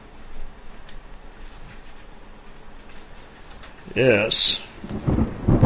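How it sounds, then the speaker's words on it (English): Thunder from an approaching storm in the game Tales From Your Mom's Basement - The Guardian rolls in over a steady patter of rain, a loud crack and rumble arriving near the end, with a single short spoken word. "Looks like there's a storm headed for us."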